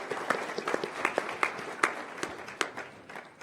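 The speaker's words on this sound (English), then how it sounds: "round of applause for Jim." A small group claps in brisk, uneven applause for a few seconds, tapering off toward the end.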